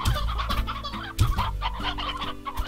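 Chickens in the Slime Rancher video game cluck repeatedly in short, close, loud bursts over a steady background game tone.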